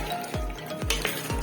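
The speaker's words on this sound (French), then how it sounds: "Mélanger tout ça" A spoon scrapes through thick aubergine and tomato sauce in a pan, three swishing strokes close up over a faint, steady sizzle.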